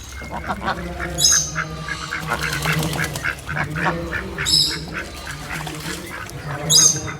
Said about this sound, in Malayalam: ഇതൊരു വെറൈറ്റി താറാവ്